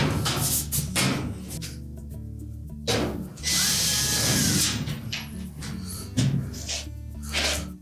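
A power drill drives screws into a Whirlpool dryer during an internal bias thermostat replacement, with several short whirring bursts separated by pauses, close and fairly loud, with no talking.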